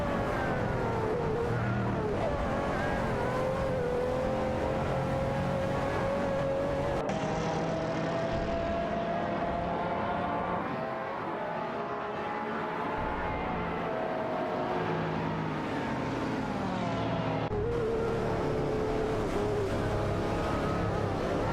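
Race cars in a video game, including a McLaren F1 GT and an Aston Martin, drone and whine steadily through shifting engine pitches, continuous and fairly loud with no talk.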